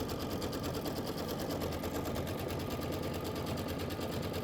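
A Baby Lock Avenir embroidery machine stitches out a quilt block, a steady, dense mechanical whirr with rapid needle rhythm running continuously and close up, with no talk.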